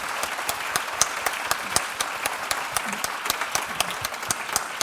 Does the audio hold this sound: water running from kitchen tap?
no